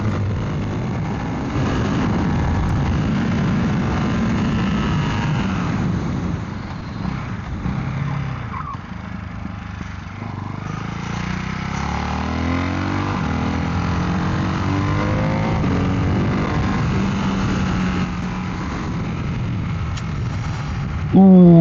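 A Ducati Hypermotard 698 single-cylinder motorcycle engine pulses loudly and close while being ridden, revving and dropping through gears, with a rider's voice heard over the thumping exhaust.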